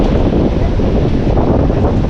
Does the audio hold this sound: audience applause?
no